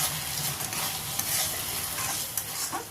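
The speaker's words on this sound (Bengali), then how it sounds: "সবগুলো ভালো করে নাড়াচাড়া করে কষে নেব যাতে মশলার গন্ধ না থাকে" Kashmiri red chilli powder and cumin-coriander powder are stirred and fried in a pan for a potato curry, a loud continuous sizzle with scraping spatula clicks and knocks scattered throughout, no voices.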